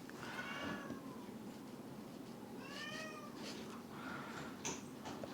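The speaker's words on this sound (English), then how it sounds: "the cat's like trying to get outside himself" A house cat meows in a quiet room, wanting to go outside, with several short, fairly faint plaintive meows spaced a second or two apart.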